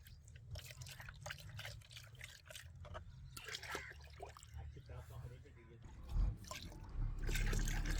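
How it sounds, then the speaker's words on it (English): Blended orange peel liquid poured into a bucket for homemade fertilizer, a steady trickling and dripping stream close by, under continuous talk throughout. "Pour the blended orange peel liquid into the bucket."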